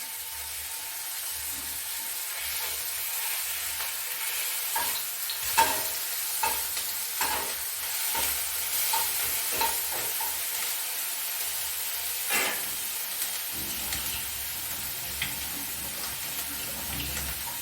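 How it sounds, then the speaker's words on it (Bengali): Onion paste fries in hot mustard oil with cumin, making a steady close sizzle broken by repeated spatula scrapes and stirring strokes, with no talking. "সে বাটা পেঁয়াজটা দিয়ে দিলাম তেলে"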